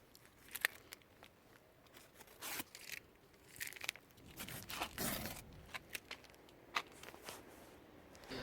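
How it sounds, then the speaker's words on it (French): Tape is peeled off the fabric seat of a Ford Mondeo during seat cleaning: quiet, intermittent ripping and crinkling with scattered short bursts and no talking. "Maintenant on va pouvoir retirer les scotch"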